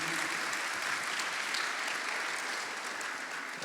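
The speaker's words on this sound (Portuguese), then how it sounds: "Eu ia pedir palmas para vocês, mas já que rolou" Steady, dense applause from a church audience at a talk on dating and marriage, filling the whole stretch evenly and continuing without a break.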